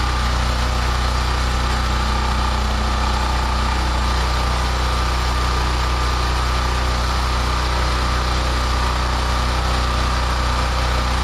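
A snowblower engine runs with the choke fully open, a loud, steady, unbroken drone close by with no voices over it.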